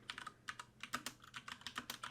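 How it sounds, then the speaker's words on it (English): Quick, uneven keystrokes on a computer keyboard, a continuous run of close, crisp clicks with short pauses, alone without talk. "are you typing?"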